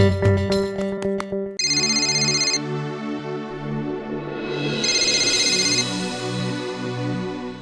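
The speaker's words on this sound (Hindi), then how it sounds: "रिंग बज रही है।" A telephone rings in repeated electronic bursts, loud and close, with a few sharp tones at the start and no voices.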